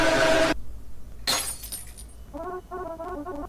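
A glass bottle drops and shatters in a video game, giving a bright crash followed by a second burst of breaking glass and tinkling shards, then a short chiming game tone, with no talking.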